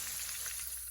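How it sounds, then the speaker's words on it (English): Onion, chili peppers and garlic sautéing together in oil: a steady, close, fine crackling sizzle that continues without a break. "I'm going to saute the onion, the chili peppers, and the garlic all together."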